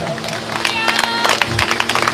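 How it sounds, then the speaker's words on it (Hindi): A congregation claps along at a Christian holy fire conference in Punjab, a busy run of overlapping hand claps over music with sustained tones, fairly loud and steady for about two seconds. "ताली बजाते जाओ ना थोड़ा"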